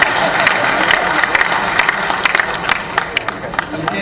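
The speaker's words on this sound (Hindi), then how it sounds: "जोरदार ताली बजा आपने" Loud, dense applause from an audience at a regional industry conclave in Rewa, greeting an award recipient. The clapping is sustained and close, with a voice speaking over it.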